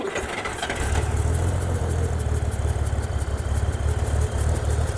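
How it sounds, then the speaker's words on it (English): A 1963 Chevrolet Corvair Monza 900 engine cranks briefly and then settles into a steady, loud, even idle, its low rumble continuous and close with no talk over it. "It's a good sounding motor."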